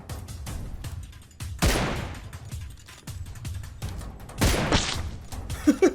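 Several bursts of video-game gunfire from a sniper shooter game, with broadband cracks and thuds near 1.6 s and 4.5 s and lighter pops in between, loud against a steady low game rumble.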